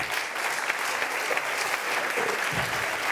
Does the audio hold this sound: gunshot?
no